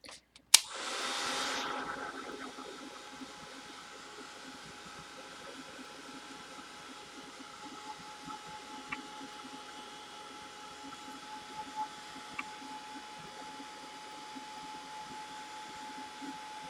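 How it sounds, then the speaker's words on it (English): A heat gun blasts hot air to dry a mermaid-with-fairy-wings craft piece, switching on with a sharp click and then holding a steady, airy whir for the rest of the stretch, with faint small clicks now and then. "Here, heat gun."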